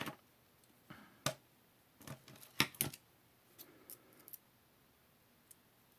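Scissors snip the thread tail on a beaded bracelet, giving several sharp, close clicks and small snips scattered across a quiet background.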